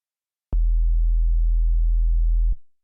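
Analog-style sine wave bass synth in oscillator A in Ableton Live, pitched down two octaves, a single pure deep tone held steadily for about two seconds, clean and loud with abrupt start and stop.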